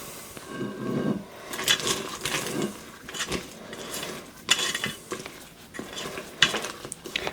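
Sweets being stirred into thick monster cookie dough in a bowl, with a steady run of scraping, thudding stirs and occasional clinks of the spoon against the bowl, fairly close and alone with no talk.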